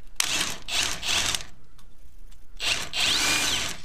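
A power tool drives a bolt on a track bar and sector arm brace on a Jeep Wrangler JL, two close, loud bursts of buzzing rattle with a short pause between them.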